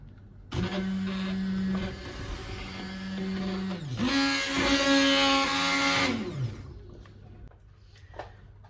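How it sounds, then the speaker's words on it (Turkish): A blender whirs loudly for several seconds, pitch shifting as it purees green lentil soup, then revs higher before winding down into quiet clinks. "çorbamı şimdi blenderdan geçiriyorum arkadaşlar"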